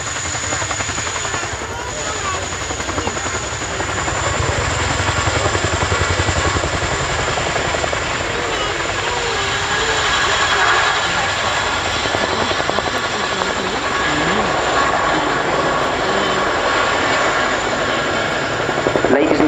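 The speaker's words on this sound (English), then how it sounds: "They enable the Chinook and its crew to get airborne in support of UK interests through delivering air power." An RAF Boeing Chinook twin-rotor helicopter flies a display at the Cosford airshow, its steady rotor thump and turbine roar filling the air at a constant loudness throughout.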